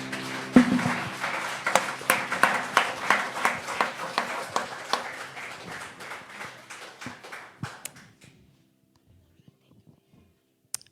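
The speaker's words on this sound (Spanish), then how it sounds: "Dale un fuerte aplauso al Señor" A church congregation claps in a strong, rhythmic beat for about eight seconds, close and lively with voices mixed in, before the clapping fades out into near silence.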